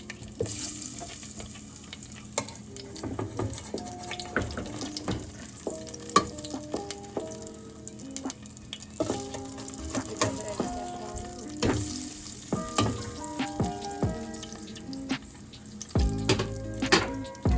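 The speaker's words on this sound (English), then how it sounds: "But I'm letting it sizzle right now." Oreo cookies fry and sizzle in hot oil, a busy crackling hiss with stirring and clinking pan sounds close by, rising and falling unevenly throughout.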